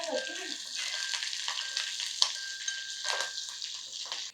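Green chillies sizzle in hot oil in a pan for carrot rice, a steady broadband frying hiss with a few soft stirring knocks, close and continuous with no talk.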